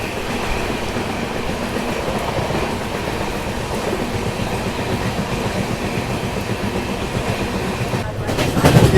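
Belagavi–Mysuru Express train with new LHB coaches passing, a steady loud rumble of wheels and carriage noise heard from nearby, with a sharper clatter near the end.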